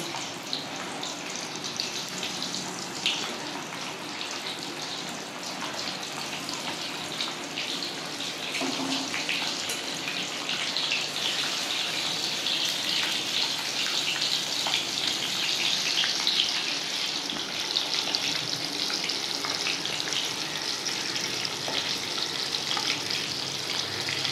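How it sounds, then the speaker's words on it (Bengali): Eggs frying lightly in oil in a pan for an onion and poppy-seed egg curry, giving a continuous, even sizzle that stays steady throughout with no talking. "ওই জন্য আমি এই ডিমগুলোকে হালকা করে ভেজে নেব।"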